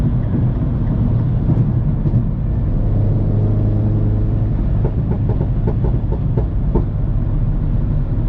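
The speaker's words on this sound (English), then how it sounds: "It just pops and crackles for days." A 2013 Mini John Cooper Works GP running with a loud, steady exhaust drone, broken in the second half by a quick series of sharp pops and crackles.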